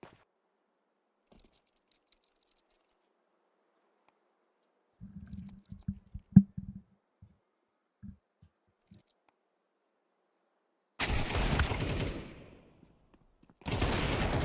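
Gunfire in a competitive video game match with wallbang kills: a scattered cluster of quiet shots and impacts, then two loud, dense bursts of firing near the end, with silent gaps between.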